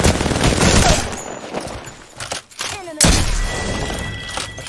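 Gunfire in the video game Apex Legends: bursts of rapid automatic shots with sharp cracks and impacts, loud and dense, breaking briefly before resuming.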